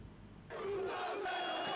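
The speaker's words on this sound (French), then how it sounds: "Une foule qui chante et qui danse, galvanisée par des slogans qui appellent à l'union du peuple tunisien" A crowd in the streets of Tunis sings and chants slogans, a dense swell of many voices that starts quiet and jumps to loud, sustained massed singing with no single speaker standing out.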